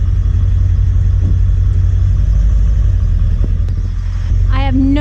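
A truck engine rumbles steadily at close range while the truck, which has lost its steering and has very weak brakes, is pulled forward. A voice briefly speaks near the end.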